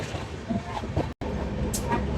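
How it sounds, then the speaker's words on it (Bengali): An Indian DEMU passenger train rumbles along with a steady mechanical drone and rolling noise, a brief dropout midway and a short high hiss near the end, with some talk over it. "এগুলো হচ্ছে ইন্ডিয়ার ডেমু প্যাসেঞ্জার"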